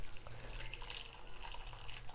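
Warm water runs steadily from a tap to soak smoked pork for a Naga pork curry, a close, continuous splashing flow with no talking.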